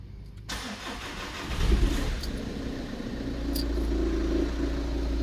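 A car engine with an electric EGR valve fault is cranked and catches after about half a second, then settles into a close, steady idle hum that grows slightly fuller over several seconds, with no talking.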